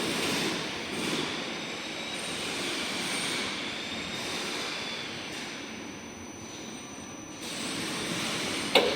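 A European Plant MGP 1.2-tonne welding positioner turns at variable speed, giving off a steady, loud broadband mechanical drone that runs without a break and with no voices.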